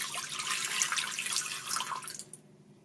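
Eight ounces of water poured into a Crock Pot Express multi cooker, a steady splashing stream for about two seconds that then tapers off and stops, close and alone with no talk.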